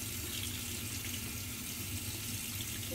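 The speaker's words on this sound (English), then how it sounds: "and you will rinse it out under the water." Tap water pours from a faucet to rinse out the tubing of a deglutition measuring kit, making a steady, close, even splashing rush throughout.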